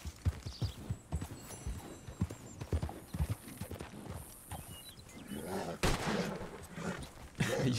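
Horse hooves clip-clop in the video game Red Dead Online, a steady trotting rhythm heard close and fairly loud, with a brief whinny and scattered game noises around it.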